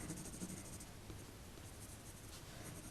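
Coloured pencil hatches quickly on textured paper in loose strokes, making a soft, continuous scratchy rasp close up with no speech.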